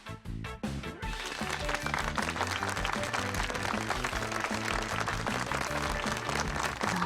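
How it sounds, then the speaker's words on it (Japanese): In a Project Sekai story scene at a New Year lion dance show, a few sharp claps open a stretch of applause that is quickly buried under loud, steady background music. "協力をしてくれたわらべに拍手。"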